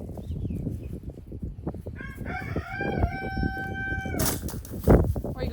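Chickens cluck and scratch close by while a rooster lets out a long crow in the middle, with the noisy flock continuing around it.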